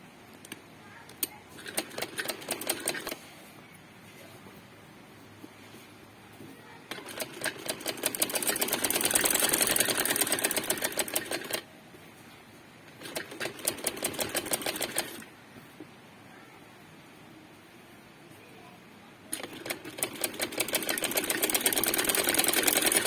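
A sewing machine stitches fabric for a frock in bursts: rapid rhythmic whirring runs of a few seconds each, separated by quieter pauses, close and fairly loud, no talking.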